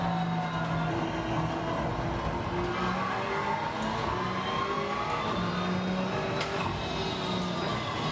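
A Ferrari 458 or 488 Challenge race car driven in the iRacing simulator, its engine droning continuously and loudly with tones rising and falling through gear changes over several seconds, and no voices.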